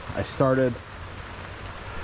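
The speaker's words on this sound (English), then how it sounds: "Freaking crappy ass raining today." Steady rain falls outside a garage as a soft, even hiss, and a brief vocal sound cuts in near the start.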